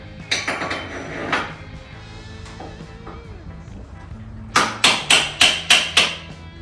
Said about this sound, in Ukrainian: Зараз спробую нагріти трошки, вдарити ще раз